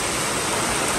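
Heavy rain pours down in a steady, dense roar, loud and unbroken for about a second with no other sound standing out.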